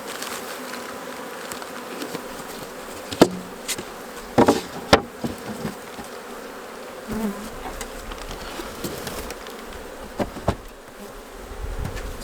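Honey bees buzz steadily around an open Kentucky beehive being prepared for winter, a close, continuous drone broken by a few sharp knocks and clicks from handling the hive.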